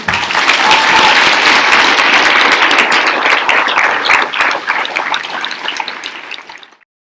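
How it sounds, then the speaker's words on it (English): A loud burst of audience applause at a 4-H youth government town hall, dense and even for several seconds before tapering off and stopping abruptly. "So let's give them a round of applause."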